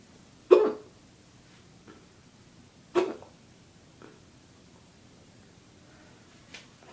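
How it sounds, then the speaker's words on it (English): A person hiccuping, with two sharp, close hiccups a few seconds apart followed by fainter ones, separated by quiet pauses. "I hate having the hiccups."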